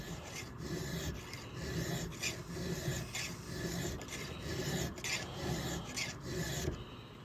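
Hand file rasping metal off an old Husqvarna 61 chainsaw part, steady rhythmic strokes, close and continuous for the whole span with no talking.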